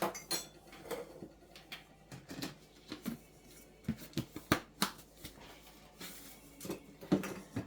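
Dried asparagus spooned into a soup pot, with a run of light metallic clinks and scrapes of a spoon against the pot and dishes, close and fairly quiet, irregular taps spread throughout.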